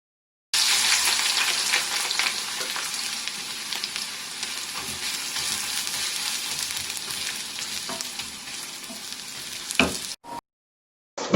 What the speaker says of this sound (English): Then put the grated onion to fry carefully until it becomes golden brown.